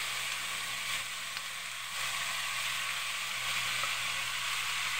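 Marinated beef for beefsteak sizzles steadily in a pan, a close, continuous frying hiss with no talking.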